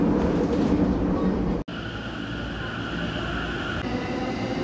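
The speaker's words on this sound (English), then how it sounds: "On the train now." Interior of a Joban Line Rapid Service train in motion in Ibaraki, a steady loud rumble of wheels and carriage with a brief dropout, continuous and close.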